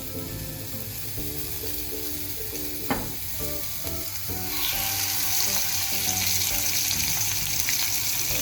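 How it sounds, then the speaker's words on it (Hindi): Chicken shashlik sticks go into hot oil in a pan, a steady close sizzle that swells into louder, fuller frying after a brief clack of placing them. "तेल गरम हो गया है। अब इसमें हमने स्टिक रख देनी है इस तरह।"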